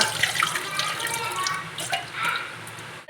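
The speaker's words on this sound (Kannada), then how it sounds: "ಇದರ ನೀರನ್ನೆಲ್ಲ ತೆಗೆಯುವ." Water draining from a pot of boiled broccoli for broccoli manchurian, a continuous close splashing pour into a sink that fades and cuts off at the end.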